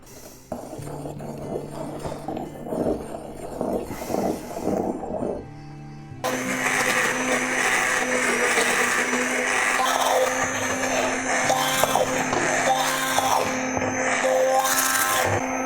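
A blender whirs while cheesecake is being made, first a lower churning stretch, then after a short pause a louder, higher steady whine running close and unbroken.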